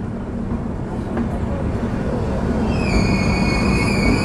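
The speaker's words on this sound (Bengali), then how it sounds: "2 নম্বর প্ল্যাটফর্মে দেখতেই পাচ্ছেন প্রবেশ করলো হামসফর" The Humsafar Express inaugural special train rolls into platform 2 at Ranaghat Junction with a loud, steady rumble of wheels, and high-pitched wheel squeals rise near the end.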